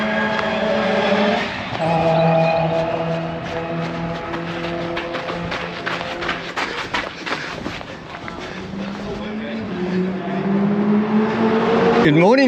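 Several cars, including a modified GTR, idle and creep forward while queuing to enter a race track, with a steady engine drone, rising and falling revs and a nearby engine picking up at the end; people talk nearby.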